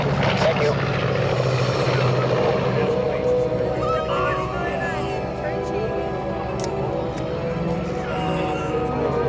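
A North American B-25 Mitchell bomber takes off at the NAS Patuxent River air show, its piston engines giving a loud, continuous roar that swells and shifts, while a voice talks over a public address system throughout.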